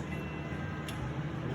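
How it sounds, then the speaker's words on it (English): A torque wrench tightening cylinder head bolts during an engine head installation gives one crisp metallic click over a quiet background, then a second faint tick at the very end. "Continuous motion on torque wrench till it clicks"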